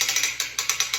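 A motorcycle track lifter ratcheting to raise the rear wheel off the ground, a close, loud, even series of about eight mechanical clicks, no talking.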